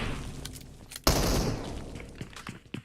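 A sharp, loud burst of gunfire in PUBG Mobile rings out once, followed by scattered fainter shots and impacts as the sound trails off.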